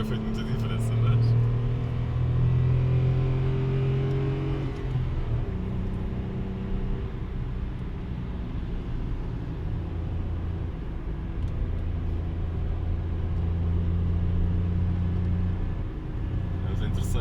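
A Hyundai Kona under full throttle climbing a winding road, loud steady engine drone and road rumble with rising pitch, a voice talking over it at times.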